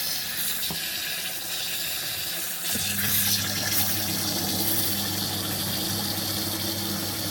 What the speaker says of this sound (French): Allez, on rajoute un peu d'eau.